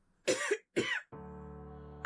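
Two harsh coughs in quick succession, close and fairly loud, followed by a low steady hum.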